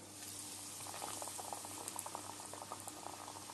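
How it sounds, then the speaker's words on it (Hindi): Fish fingers deep fry in hot oil, giving a steady close bubbling and sizzling with scattered pops that grow busier after the first second. "अब मैं इसको डीप फ्राई करूंगा।"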